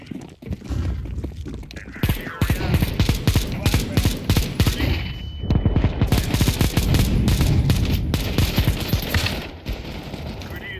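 Rapid, close bursts of gunfire crackle through a video-game firefight, sharp repeated shots in dense volleys with brief pauses, a flashbang among them and voices faintly underneath.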